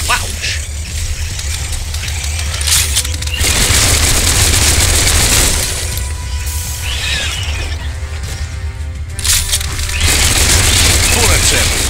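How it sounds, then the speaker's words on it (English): Heavy gunfire in Biomutant rattles in fast, loud volleys with sharp cracks and booms, coming in several bursts over a constant roar of game noise. "Bullets everywhere."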